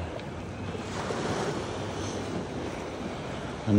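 High-tide ocean waves break along the shore at Cabongaoan seaside, a continuous surf wash mixed with wind buffeting the microphone, with a sharper surge near the end and no speech.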